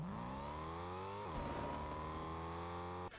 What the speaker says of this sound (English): It sounds really like a muscle car.